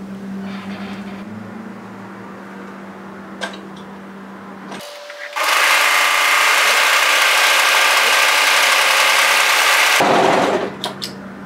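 An overlocker serger sews a sleeve seam on a knit top in a loud, steady, high-speed mechanical whir lasting about five seconds, bracketed by quieter handling noises and low machine hum.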